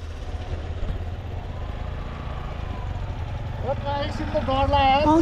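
Motorcycle engine running steadily on a snowy mountain road near Titi Lake in Mustang, a continuous low rumble up close that builds slightly toward the end, with a voice entering at the close.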